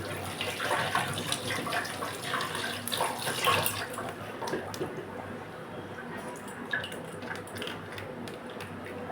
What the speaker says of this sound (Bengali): মাছটা ধুয়ে নেব।